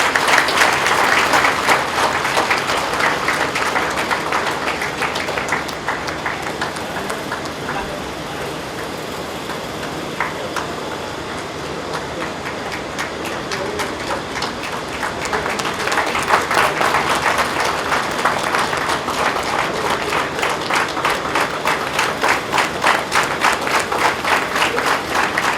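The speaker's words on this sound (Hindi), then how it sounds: "जोरदार तालियों की आवाज़ यहाँ नहीं आ रही है मंच पर।" Sustained applause from an audience at a yoga event, dense and steady across the whole stretch, easing slightly midway before swelling again, with no voices standing out.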